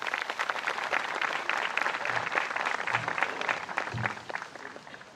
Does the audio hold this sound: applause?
yes